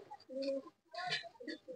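Pigeons coo softly and close by in two short bursts separated by a brief pause, fairly quiet and alone.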